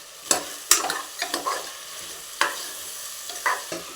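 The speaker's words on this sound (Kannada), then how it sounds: "ಇದನ್ನು ಒಂದು 5 ಮಿನಿಟ್ಸ್ ಫ್ರೈ ಮಾಡಿ." Mixed vegetables with tomato fry in a pan for vegetable pulao, with a soft sizzle under sharp, irregular scrapes and clacks of a spoon stirring them, close up and with no talking.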